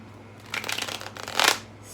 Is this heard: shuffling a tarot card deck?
yes